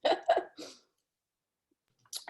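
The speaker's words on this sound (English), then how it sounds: "I choose to not be coughing right now." A person coughs in three quick, close, sharp bursts, then goes silent before a faint breathy sound at the end.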